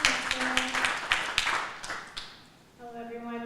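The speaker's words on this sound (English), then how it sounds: "Let's give Mal a round of applause." Applause from a meeting audience welcoming a presenter, a brief burst of scattered claps over crowd noise that fades after about two seconds, followed by a voice beginning to speak.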